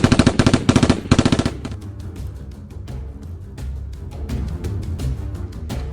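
Rapid automatic gunfire in Lego The Walking Dead, a loud burst of machine-gun bursts in the first second and a half, followed by scattered single shots and game ambience.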